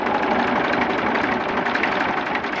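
A Fordson Super Dexta tractor engine idling at very low throttle makes a steady, close diesel chug with a rough, slightly uneven knock and no talking over it.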